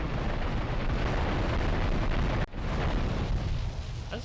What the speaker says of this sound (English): That's a pretty big bang.